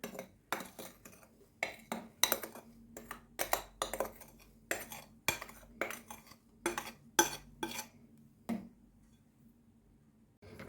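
Jam stirred into cake batter in a bowl, with a spoon clinking and scraping against the bowl in a steady, repeated rhythm of about twenty close strokes that stops near the end.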